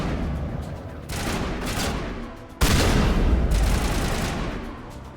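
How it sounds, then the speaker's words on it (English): Rapid gunfire from a Mass Effect firefight rattles in dense, continuous bursts, with a short drop in the middle before a loud, sharp blast and more sustained shooting. "We're still shooting at something."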